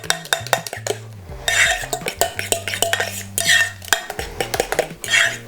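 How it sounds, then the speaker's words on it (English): A whisk rattles quickly against the sides of a bowl while olive oil is beaten into banana donut batter, giving rapid, close clinking strokes in bursts with no talking. "Then also whisking in the oil, just shortly."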